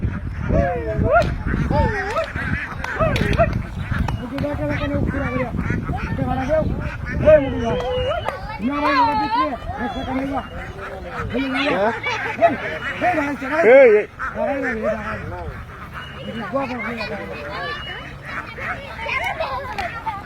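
A dense, continuous chorus of about 930 ducks quacking nearby on a floating duck farm, with people talking over the racket.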